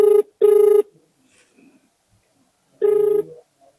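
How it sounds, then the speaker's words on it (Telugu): An outgoing telephone call rings back with three clear electronic tones: two close together, a pause, then a third, each loud and steady against near silence. "మనం కాల్ అయితే చేయడం జరుగుతుంది."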